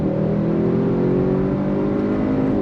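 An Audi RS 6 Avant accelerating hard on throttle, its engine note a loud, steady, rising drone that fills the whole stretch without a break.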